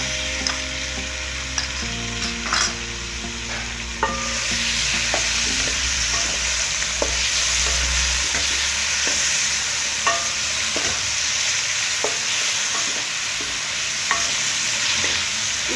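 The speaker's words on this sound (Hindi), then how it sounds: "इसको हम बहुत ज़्यादा फ्राई नहीं करेंगे, बस इतना सा फ्राई करेंगे कि ये वाइट हो जाए" Chicken pieces frying in a pan for restaurant-style chicken fried rice, a steady loud sizzle running throughout with repeated scraping stirs and clinks of the spatula, no talking.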